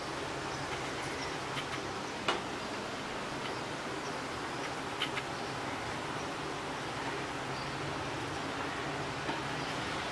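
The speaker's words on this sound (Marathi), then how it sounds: "गोल्डन ब्राऊन कलर मध्ये वडे तळायचे आपल्याला" Pumpkin vadas deep-fry in a wok of hot oil, giving off a steady, even bubbling hiss that carries on without a break, with a few faint clicks and no voices.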